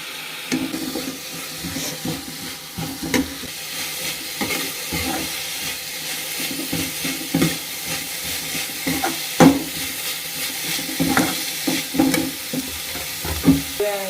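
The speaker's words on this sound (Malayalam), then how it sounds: "ഇതാട്ടോ നമ്മുടെ ഉള്ളി ഒരുവിധം വാടിയിട്ടുണ്ട്" Onions sautéing in a pan with curry leaves for a rice dish, a steady close sizzle with repeated scraping stirs of a spoon throughout, no talking.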